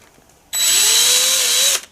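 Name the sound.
drilling a centre dimple in metal with a drill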